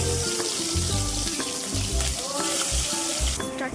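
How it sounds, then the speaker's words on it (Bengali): Turmeric-and-salt-rubbed morola fish frying in hot oil in a wok, giving a loud, steady sizzle with crackling bursts throughout. "নুন হলুদ মাখা মাছটা আমি এখন কড়াইতে দিয়ে দিব"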